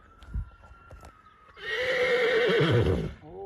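A mare lets out a loud, long whinny that rises and wavers for a couple of seconds, after a few soft thumps and faint background noise.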